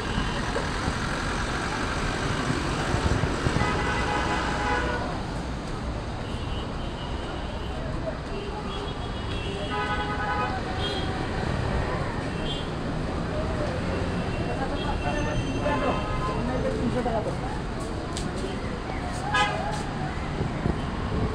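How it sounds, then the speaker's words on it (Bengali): Busy road traffic at Gazipur Chourasta bus stand in Dhaka, a dense steady roar of engines, idling trucks and buses with passing vehicles throughout, voices of people talking mixed into the constant din. "এটা ঢাকার রাস্তা, গাজীপুর চৌরাস্তা ঢাকা।"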